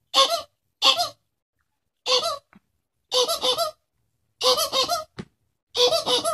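A human voice imitates a squeaky rubber plush toy in beatbox style, producing six short, bright squeaks in a loose rhythm separated by silent gaps, close and clear.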